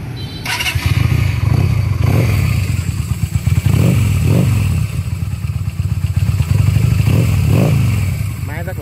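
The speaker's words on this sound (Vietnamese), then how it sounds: "Máy rất là êm nha, tiếng bô nổ rất là hay luôn." A Harley-Davidson-style 170cc V-twin motorcycle idles with a loud, steady, close-up exhaust rumble and a few throttle blips. Someone talks over the engine noise.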